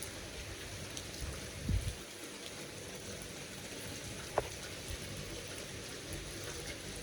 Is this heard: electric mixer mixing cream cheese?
no